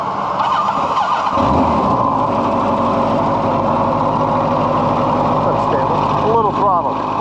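An old 40-year-old motorcycle engine runs with a bit of throttle, a steady close mechanical rumble with a brief rise in revs early on, while someone talks over it.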